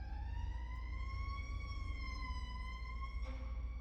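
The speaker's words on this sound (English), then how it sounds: "of course we can't get through without having the sirens go through, right?" An emergency vehicle siren wails steadily as it passes by at a distance, a smooth sustained tone over low rumbling traffic, fairly faint.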